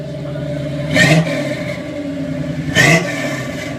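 A truck engine revs twice, each blip a short, loud swell rising out of a steady idle about two seconds apart, close by and with no talk over it.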